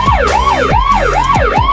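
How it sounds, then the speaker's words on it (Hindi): A police car siren plays as a mobile ringtone, with loud, close wailing tones that sweep up and down in a rapid repeating cycle about every half second. No one speaks over it. "लगता है पुलिस की गाड़ी आ रही है"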